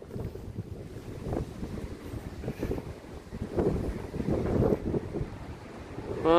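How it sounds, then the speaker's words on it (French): Outdoor wind gusts buffet the microphone in rough, uneven bursts, a low rumbling roar that swells louder toward the end. "il y a à nouveau du vent, encore ces rafales de vent"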